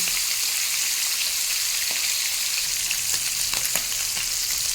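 Tengra fish frying in hot oil in a pan gives a steady, close, dense sizzle with scattered crackles and pops throughout, and no voices.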